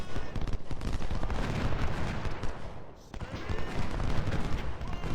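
In the Civil War strategy game Ultimate General: Civil War, artillery and massed rifle fire rumble as a dense, continuous battle din of booms and crackling volleys, briefly easing midway before surging again.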